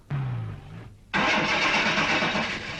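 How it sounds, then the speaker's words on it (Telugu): A car engine in a movie scene cranks weakly for a moment, falls silent, then catches into a loud, steady running roar. "దీని ఇంజిన్కి ఏదో జబ్బు చేసినట్టుంది."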